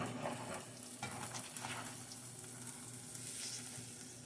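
Reuben sandwiches grilling in a pan give a steady, soft sizzle with faint occasional clicks, close and fairly quiet throughout.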